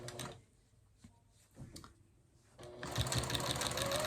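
A sewing machine back stitches binding onto a quilt with short bursts of rapid mechanical stitching separated by pauses, then runs in a longer, louder stretch at the end.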